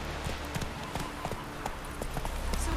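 Hooves of Roach, a horse in The Witcher 3, clip-clopping at a steady pace as a string of sharp, close knocks over an ambient game backdrop.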